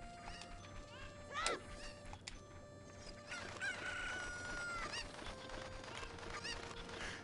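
Many chickens clucking with a rooster crowing in The Legend of Zelda: Ocarina of Time, a loud chorus over game music, with a person talking over it.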